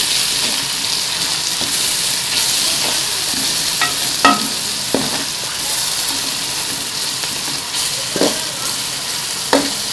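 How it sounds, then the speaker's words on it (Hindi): Spices roasting in ghee hiss steadily as a spoon stirs them, with scattered clinks and scrapes of the spoon against the pan over a continuous close sizzle and no talking. "इसी घी के अंदर साथ साथ हल्का हल्का चम्मच चलाएंगे और 5 मिनट तक अच्छी तरह से सारी चीज़ों को भून लेते हैं।"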